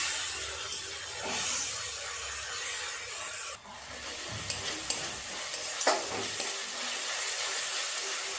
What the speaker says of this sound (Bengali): চার পাঁচ মিনিট সময় নিয়ে এইভাবে সমস্ত মশলাটা ভালোভাবে কষিয়ে নেব